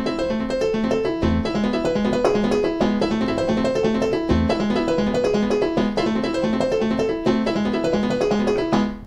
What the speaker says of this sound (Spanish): Estoy haciendo un arpegio en la segunda posición de la, pero descendiente.